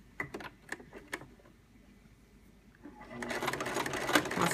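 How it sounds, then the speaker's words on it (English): A sewing machine stitches a seam on a book bag, starting after a few clicks and pauses and then running in a steady close whir for the last second and a half. "And now we're going to sew it."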